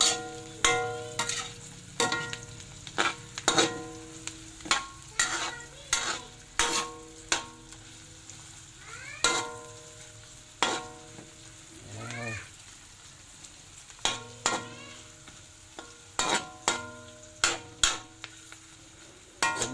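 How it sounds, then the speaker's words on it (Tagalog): A pot of ginataan with banana heart and papaya is stirred, giving repeated sharp scraping and clacking strokes at an irregular rhythm, close and fairly loud, with faint sizzling underneath and brief background sounds between strokes. "Haluin po natin."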